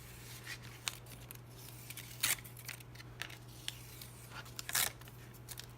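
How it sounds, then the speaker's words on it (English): A mask being peeled off paper with a metal piercing tool, heard as faint, scattered scraping and crinkling ticks with a few louder peeling rasps against quiet room hum. "I'm going to go ahead and peel this off with my piercing tool"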